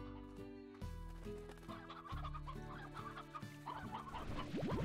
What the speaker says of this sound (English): That's a lot of chicken.